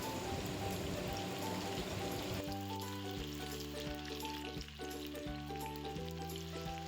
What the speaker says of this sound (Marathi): आता हे फिंगर चिप्स आपण तळून घेऊया.